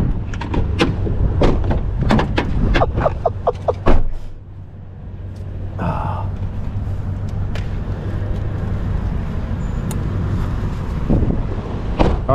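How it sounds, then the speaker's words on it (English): Strong gusts of wind buffet the microphone outdoors in South Florida, a steady broadband rush with short bursts and knocks, while people talk near the start. "Windy as all get out."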